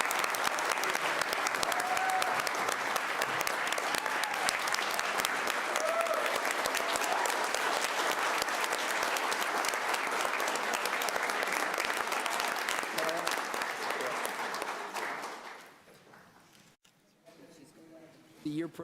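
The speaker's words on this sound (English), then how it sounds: "If you would give them a round of applause" Audience applause for teachers at a Board of Education meeting, a long, dense, steady clapping that holds for about fifteen seconds before thinning out, with a few claps and murmurs left at the end.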